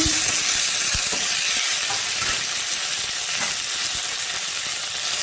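Lightly fried potato and eggplant sizzling loudly in a pan as spices and chopped tomato are added, a constant close hiss with stirring scrapes and no talk.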